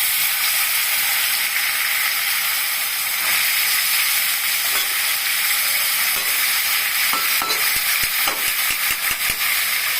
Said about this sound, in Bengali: এখন এই অবস্থায় আমি কচুর শাকটা তেলে ছেড়ে দিব।